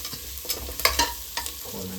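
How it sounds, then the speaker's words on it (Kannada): Onions fry in a pan for fenugreek (mentya) bath, sizzling steadily while a spoon stirs them with repeated close scraping strokes. No one talks. "ಈರುಳ್ಳಿ ಸ್ವಲ್ಪ ಇವಾಗ ಫ್ರೈ ಆಗಿದೆ"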